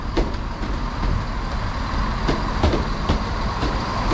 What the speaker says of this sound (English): So this is our train to Dyce.